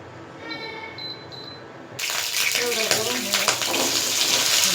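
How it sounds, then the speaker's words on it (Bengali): Water from boiled jackfruit seeds being poured off, a steady splashing rush that begins abruptly partway through and continues loudly after a quieter stretch. "কষের পানিটা ফালাই দিই"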